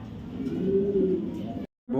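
A two-year-old red checker female racing pigeon from a BRPFC club gives a low, sustained cooing up close, broken by a brief silence before resuming.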